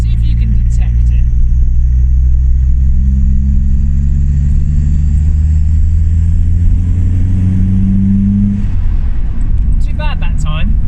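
A car engine with a leaking exhaust manifold revs steadily and loudly, its droning tone rising over several seconds before dropping away, with a sharp ticking rasp near the end.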